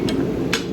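Two sharp hammer blows on hot horseshoe steel at a blacksmith's fire, a double-caulkin shoe heel being bumped up; strikes land close together, loud and near over steady low background hum.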